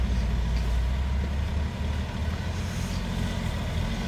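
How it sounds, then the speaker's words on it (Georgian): A car's engine labours steadily as it is driven uphill on the mountain road to Salome's Mountain near Rkoni, a continuous close low rumble with no talk. "ჯაბა მანქანა უნდა აწიო, მაღლა ჯაბა თორე ვეღარ ეტევა მანქანა"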